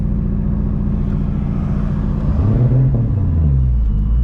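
A 600 hp 2JZ-swapped Lexus IS300 rumbles loudly and steadily up close, its deep engine note rising partway through as the revs climb and then holding strong.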